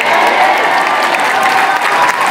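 Loud, close audience applause mixed with cheering at RuPaul's DragCon keynote speech, a dense continuous roar of clapping and voices lasting a couple of seconds.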